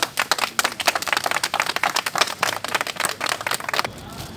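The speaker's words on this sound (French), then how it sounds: "le tonnerre d'applaudissements." A crowd at a doctors' protest gathering breaks into dense, rapid applause, a steady patter of many hands, fairly close, ending abruptly into quieter room noise.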